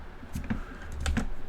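A few keys are pressed on a computer keyboard, soft clicks close by in a quiet room.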